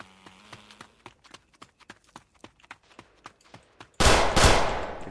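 Gunfire in the video game Project Vector, with a string of sharp, evenly spaced single shots followed by a loud, sustained burst of blasts at the end.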